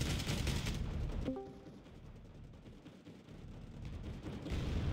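Video game combat with dense gunfire and artillery fire: heavy, rumbling bursts of shooting and explosions that ease off in the middle and build again toward the end, without talking.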